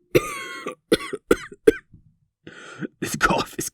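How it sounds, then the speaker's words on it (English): A series of harsh, close-up coughs from one person, several separate bursts with short gaps and a rougher cluster at the end, in a voice that sounds strained and ill. "This cough is killing me."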